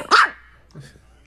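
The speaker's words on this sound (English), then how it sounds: "Bark at your dog." A dog barks once loudly up close, followed by quieter vocal sounds that could be a person, with no clear speech over it.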